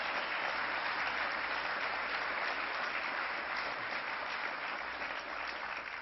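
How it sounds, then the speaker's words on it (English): An audience at a Democratic state convention applauding Andrew Cuomo's nomination for New York governor, a dense, even wash of clapping from a large crowd that holds steady without a break. "But let's give them a round of applause."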